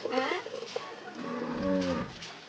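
A cow moos in a rural Gujarati household setting: a low, drawn-out bellow rising through the second half, fairly close and moderately loud, with faint background noise.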